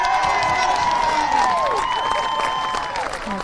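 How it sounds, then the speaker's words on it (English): A big crowd cheers and applauds for the champion drum major at the 2021 NZ National Pipe Band Contest, a loud, continuous roar of voices and clapping with whistles, swelling and then easing off. "There's a big cheer there for the champion drum major for 2021 to Stu McHale."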